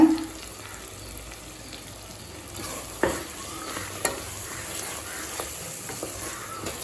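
Ground masala sautéed and stirred in a pan while cooking chicken gravy, giving a steady close sizzle with scattered scraping knocks of a spoon against the pan, no voices.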